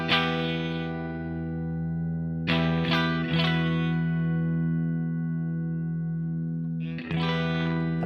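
Electric guitar through a Mad Professor Forest Green Compressor with a tightened bottom end: a long sustained chord, then a few sharp strums around the middle and another strum near the end, ringing smoothly with a slight effects sheen.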